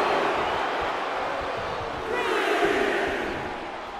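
Arena crowd cheers and roars continuously during a WWE 2K23 wrestling match, a loud dense wash of voices that swells slightly midway.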